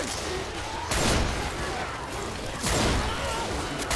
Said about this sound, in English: Cause I've still got incendiary ammo. This shotgun's pretty good.